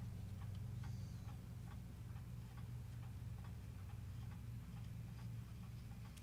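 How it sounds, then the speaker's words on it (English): Several clocks tick steadily in a room, a soft regular tick-tock over a low background hum, with no voices. "I don't know if you guys can hear all of the clocks working."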